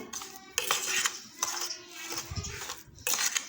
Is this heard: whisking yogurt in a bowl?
yes